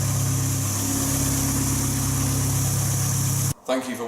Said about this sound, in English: it is actually idling smoother than what it used to